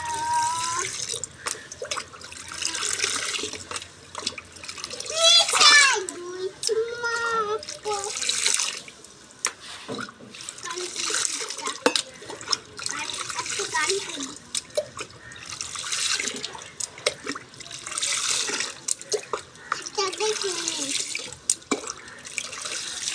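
Water splashes and runs from a tap during a young child's bath, steady sloshing and dripping throughout at moderate level while a child and an adult chatter over it.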